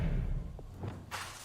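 Expelliarmus spell cast in the Hogwarts Legacy video game: a low thump followed by a brief bright whooshing blast, moderately loud and over within a second.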